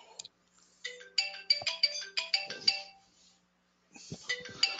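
A telephone rings with a melodic electronic ringtone of bright tonal bursts in a repeating pattern, fairly close and clear, pausing briefly before ringing again, with no talk over it.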